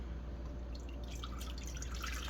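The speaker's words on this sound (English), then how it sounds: "we're gonna take our chicken stock, pour it in" Chicken stock poured into a pot gives a faint, steady liquid trickle and splash over a low background hum, quiet and close, with no voices.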